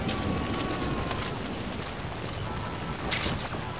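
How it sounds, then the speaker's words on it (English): Steady rain in Metal Gear Solid V: The Phantom Pain, a dense, constant hiss of falling water with low rumbling underneath, loud and unbroken for the whole stretch, with a brief brighter spatter near the end. "I like the rain sounds in this game, Terry."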